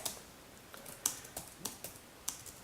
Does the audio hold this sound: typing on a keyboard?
yes